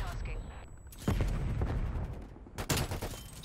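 Video game gunfire cracks out in two heavy bursts, one early and one near the end, loud and close, with an explosive boom feel and a quieter gap between them.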